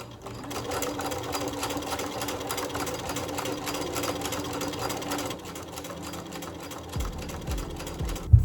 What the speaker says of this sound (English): top stitch on the end here and then on the end there as well